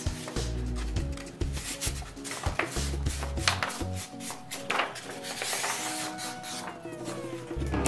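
Scissors cut through folded craft or construction paper in a run of close, crisp snips and rustling paper crunches at an uneven pace, with no voices.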